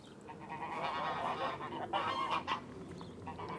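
Several geese call with repeated honks by the old River Nene at March, close and clear, the cries overlapping in a loose cluster against a calm riverside backdrop.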